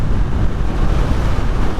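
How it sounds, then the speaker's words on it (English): Heavy wind roars past a rider on a Kawasaki Ninja 400 motorcycle, a loud, steady buffeting rush that fills the clip with no voices. "the wind on your face, the wind on your chest"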